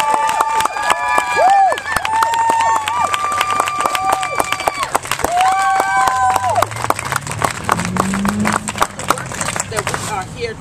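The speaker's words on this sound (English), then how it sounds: "We should recognize them and applaud them." A rally crowd at a living wage demonstration applauds and cheers. Voices shout and whoop over a thick bed of clapping, with sustained vocal tones early on and loud, scattered claps running throughout.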